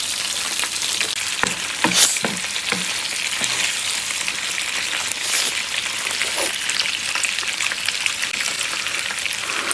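Beef steak sizzles steadily in a hot pan in a home kitchen, a dense continuous hiss broken by a few sharp crackles and utensil taps, with no talking.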